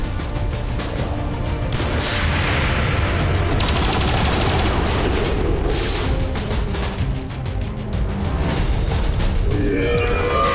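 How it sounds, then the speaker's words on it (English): Heavy, continuous gunfire in XCOM 2: War of the Chosen, a dense, loud barrage of overlapping automatic bursts and booming impacts that carries on without a break. "There's heavy fire in this zone!"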